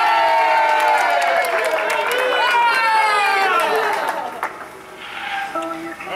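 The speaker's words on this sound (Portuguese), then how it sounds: "Pode bater palmas aí," Crowd at a birthday party in São Paulo clapping and cheering, with excited shouts and voices over the applause, close and lively, fading somewhat toward the end.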